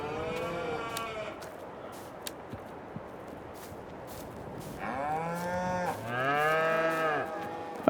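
Black Angus and Holstein cows moo on a farm in a series of long, loud, drawn-out calls, some overlapping, heard close by over a noisy outdoor background with a few small knocks and no speech.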